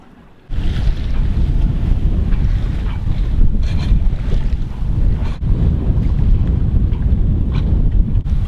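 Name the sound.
sailboat crossing between islands in strong trade winds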